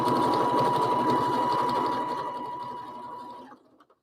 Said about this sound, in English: Okay, so now I'm just top stitching this.